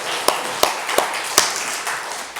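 Scattered hand claps in a church congregation, five or six separate sharp claps at uneven intervals with a faint background hum.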